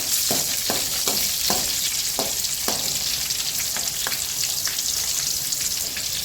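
Green chilies and sesame seeds fry in hot oil for a khaman tempering, giving a steady sizzle with scattered sharp pops and crackles throughout; nobody speaks.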